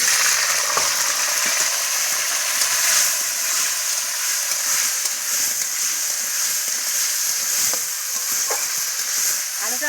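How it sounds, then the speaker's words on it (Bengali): Cut potatoes frying in hot oil over a wood fire, a loud, steady sizzle with occasional stirring scrapes, and no voices. "আলুটা ভেজে নেব।"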